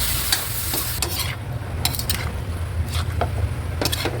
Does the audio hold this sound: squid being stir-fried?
yes